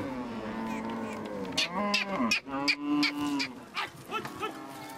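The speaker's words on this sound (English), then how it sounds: "Cows are such precious capital to the Dinka that their meat is rarely consumed." Dinka cattle moo in a herd outdoors, with several long, deep lowing calls overlapping one another at close range.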